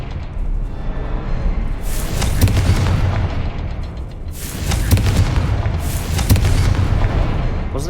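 Confringo fire spell explosions in Hogwarts Legacy, two heavy booming blasts a few seconds apart with crackling debris over a dense rumbling game soundscape.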